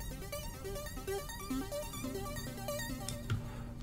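Red Stab arpeggio preset from the Hive synth in a virtual-style beat, a bright plucky synth stepping through quick repeating notes over a steady backing, clear and upfront with no talking.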